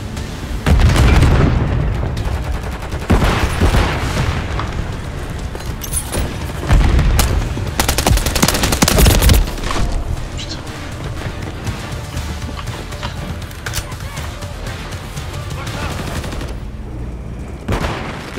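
Heavy gunfire and explosive booms from Call of Duty Modern Warfare 3, loud and continuous for the whole stretch, with thudding blasts and rapid shot bursts layered over one another.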